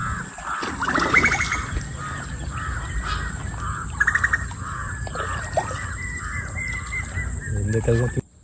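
Crows cawing repeatedly along a forest trek route, loud and close, with other birds chirping and faint ambient noise in between.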